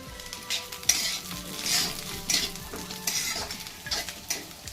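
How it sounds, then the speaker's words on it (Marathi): Garlic cloves roast in a pan with coconut and browned onion for a village-style chicken masala, giving a close, continuous sizzle broken by repeated stirring scrapes and light utensil knocks against the pan. "लसणाच्या पाकळ्या टाकते दहा ते पंधरा त्याही छान भाजून घ्यायच्यात"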